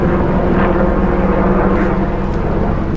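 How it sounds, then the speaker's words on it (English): A military helicopter passing over a backyard pond garden, a loud continuous droning engine and rotor roar that holds steady throughout and drops slightly at the very end, with no talking. "Military helicopter about to go by."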